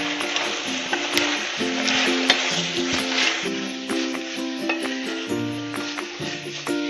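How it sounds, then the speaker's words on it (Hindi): Fried idli pieces are tossed and stirred in a hot pan while making chilli idli. A steady sizzle runs throughout, with clinks and scrapes from the spoon. The sound is close and continuous, and nobody speaks. "अब इसमें हम इडली डालेंगे जो हमने फ्राई की थी, इसको हम मिक्स कर लेंगे अच्छे से।"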